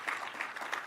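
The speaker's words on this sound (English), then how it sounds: "Give them a round of applause" Brief dense audience applause at a press event on clean hydrogen hub funding in California, a short wash of clapping with no talk.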